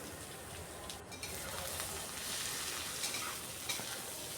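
Chopped ginger stirred and lightly fried in a pan for a chicken gravy, giving a steady soft sizzle with faint scraping strokes throughout, fairly quiet and with no voices.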